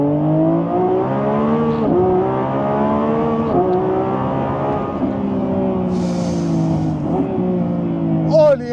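A car with a dual-clutch gearbox pulls hard, its engine note climbing loudly and dropping sharply at each quick upshift, four crisp gear changes in a row, close and steady.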